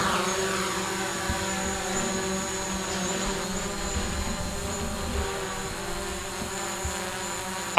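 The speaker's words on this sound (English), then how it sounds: "let's get the drone up in the air" Small camera drone spinning up its propellers for takeoff, a steady high-pitched multi-tone buzz held close and loud throughout, with no talk.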